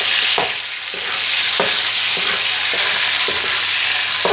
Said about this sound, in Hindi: इसे हमने अच्छी तरह से ब्राउन करना है, बड़े प्याज से आस्ता आगे में इसे फ्राई करें।